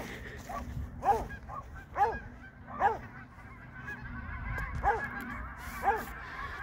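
Geese honk outside at a moderate distance, with about six evenly spaced, nasal calls roughly one second apart over a steady low background rumble.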